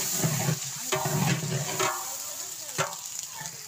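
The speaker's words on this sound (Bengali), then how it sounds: "মশলাটা ভেজে নেব।" Whole spices with bay leaves sizzle and crackle in hot oil in a large pot for a 30 kg batch of beef curry, with a steady fry hiss broken by a few sharp scraping stirs.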